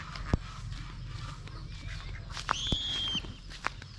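Ducks and chickens at a Thai backyard farm, fed grass, give scattered calls over a low background rumble, with a few sharp knocks and a sustained nasal call near the middle.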